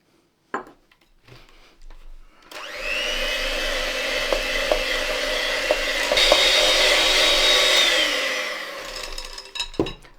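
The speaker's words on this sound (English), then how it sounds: "give it one last whisk" An electric whisk mixes butter icing with custard powder, vanilla and milk, beginning with scattered knocks before a steady, loud motor whir that holds for several seconds and then stops with a few clunks.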